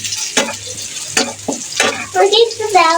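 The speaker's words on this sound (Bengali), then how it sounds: "দাঁড়াও আমি একটু নেড়ে দিই, না হলে তো পুড়ে যাবে।" Spices frying in a pan with flour, mustard, garam masala, bay leaf and cumin, stirred in short scraping strokes over a steady sizzle, close and fairly loud.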